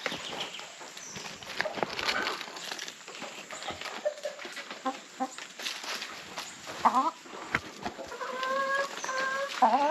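Chickens cluck and a rooster-like call sounds in a farmyard, with short bursts of fowl vocalizing scattered over a steady background and a few louder calls near the end.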